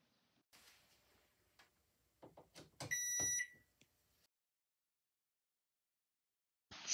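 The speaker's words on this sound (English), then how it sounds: "Be prepared, it might beep." A household appliance gives a short series of sharp electronic beeps just after being plugged back in following a circuit breaker reset, preceded by faint handling clicks and followed by silence and another brief tone.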